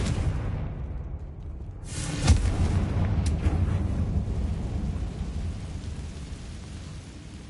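A Confringo blasting curse explodes in Hogwarts Legacy as a heavy, booming blast that swells into a long rumbling roar, then slowly fades away with no voices.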